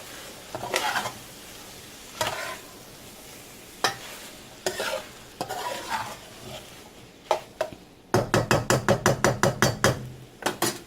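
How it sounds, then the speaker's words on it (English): A spoon scrapes and stirs a dirty rice mixture in oil in a pan in loud, spaced strokes over a light sizzle, ending in a quick run of a dozen sharp taps against the pan's rim. "I'm going to stir that up in there."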